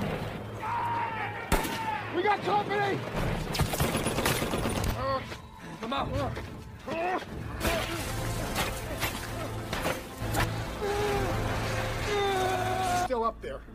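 Enemy troops pour gunfire in a war film battle scene, bursts of rifle and machine-gun shots and heavy impacts scattered across the scene, loud and close, mixed with shouting voices and an orchestral score.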